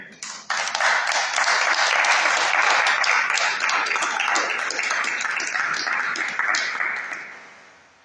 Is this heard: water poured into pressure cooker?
no